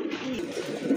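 Pigeons coo close at hand at a pigeon seller's, a short continuous low throaty burble with no talk.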